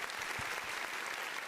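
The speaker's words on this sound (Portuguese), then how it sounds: "Uma salva de palmas, gente." An audience at a panel discussion on autism claps in a brief, dense burst of applause.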